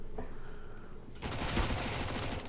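Rapid gunfire from a Counter-Strike: Global Offensive competitive match on Dust II bursts in halfway through, a dense, loud crackle of shots replacing a quieter stretch of game ambience.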